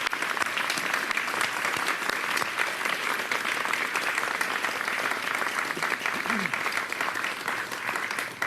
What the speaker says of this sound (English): Let's do a big round of applause for all of them,